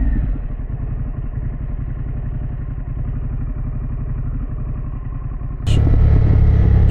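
Exhaust of a Harley-Davidson Pan America motorcycle rumbling steadily at close range with a pulsing low throb, then growing louder and fuller near the end as the revs rise.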